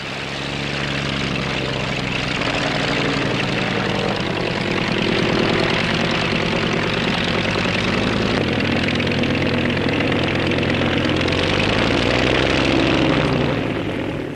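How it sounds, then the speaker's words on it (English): A Cierva Air Horse, a 24-seat helicopter powered by a Merlin engine, drones continuously with a loud, steady engine roar and no break or talk throughout. "This is the Sierra Air Horse, a 24-seater helicopter powered by a Merlin engine."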